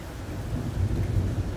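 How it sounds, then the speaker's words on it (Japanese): Thunder rolls low and heavy through steady rain on a stormy night, a continuous rumbling roar that swells slightly toward the middle, with no one speaking. "もしかしたら私の声より雷の音も入ってるかもしれない。"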